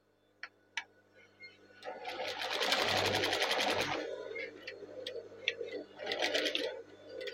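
A sewing machine stitches the sleeve placket of a hand-drawn batik tulis garment, starting with a few faint ticks, then running in a fast steady burst for about two seconds and stopping, with a shorter second run near the end.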